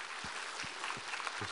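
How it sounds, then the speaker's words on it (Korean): Faint applause from a church congregation during a Sunday service, a soft wash of clapping heard at a distance with a few low thumps. "우리 하나님께 감사와 영광의 박수를 드리겠습니다"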